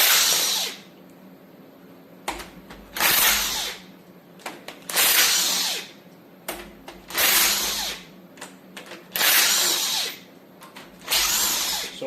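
Power tool, likely an impact or air wrench, removing head bolts from an LT1 engine, running in loud repeated bursts of a few seconds each with short pauses between, close by and with no talking.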